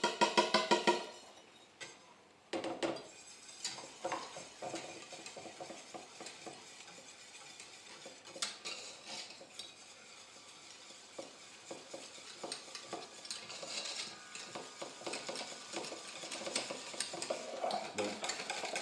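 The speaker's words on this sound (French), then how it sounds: "je vais mélanger le cacao avec le sirop" Cocoa being stirred into syrup for a Black Forest cake, a soft, steady scraping of utensil against bowl with light clinks of metal, continuing at close range throughout with no talking.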